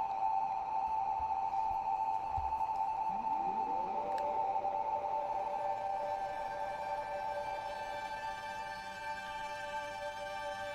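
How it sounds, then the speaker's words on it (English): A sawtooth wave from a homemade PS3 synth with slight modulation, a sustained buzzy tone with a brief swooping pitch bend partway through, steady and alone with no voices. "now there's just a little bit of modulation in our sawtooth wave"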